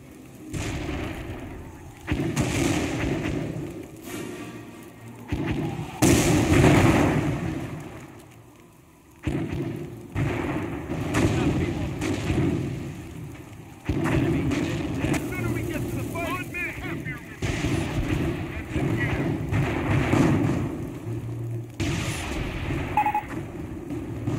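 Mortar and artillery fire in the World War II strategy game Company of Heroes, infantry battle at Foy: repeated loud booming blasts and rumbling explosions spread across the clip, with radio-style voices calling out over the battle.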